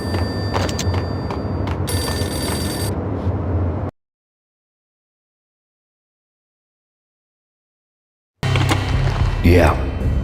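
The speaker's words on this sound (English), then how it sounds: "The payphone started to ring." A payphone rings in the video game Max Payne, a steady bell ringing over background ambience for about four seconds. It stops dead into silence, then noise returns with a voice speaking.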